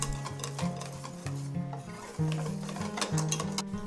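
Cheesecake batter being mixed after lemon juice is added, a whisk or spoon scraping and stirring in a bowl with repeated rhythmic strokes, close and moderately loud.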